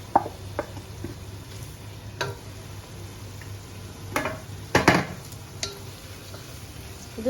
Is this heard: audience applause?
no